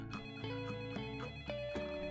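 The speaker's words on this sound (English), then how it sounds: "Later that day, the phone rang. Once, twice," A telephone in a read-aloud story rings with a repeating electronic tone in a quick regular rhythm, clear and steady with no voices over it.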